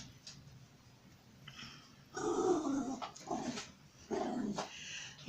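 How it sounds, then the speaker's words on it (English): A small dog growls close by in low, rumbling bursts, three or four throaty grumbles separated by short pauses in an otherwise quiet room. "there's my little dog again, being a grr"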